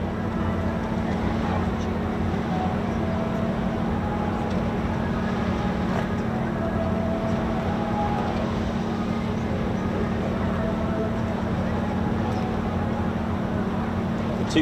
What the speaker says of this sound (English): So it's quite a nice opportunity to hear this Merlin 63 engine, if it is that one.